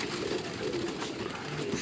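Pigeon cooing, close and steady, a low soft murmur running through the moment without pause.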